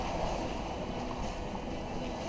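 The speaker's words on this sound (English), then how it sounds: "Ocean, these waves" Ocean waves and rushing water around a sailboat on an offshore overnight passage from North Carolina to Florida, a steady broadband wash with wind noise across the microphone throughout, no voices.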